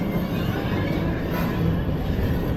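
The Mako roller coaster train at SeaWorld Orlando, heard from the back row, gives a loud, continuous rumble of wheels on track, with a steady roar that does not let up.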